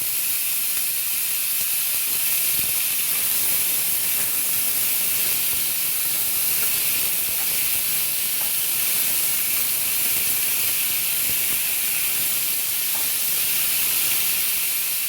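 Potatoes frying in hot oil after a cumin tempering, giving a steady, loud, even sizzle and hiss that runs unbroken throughout.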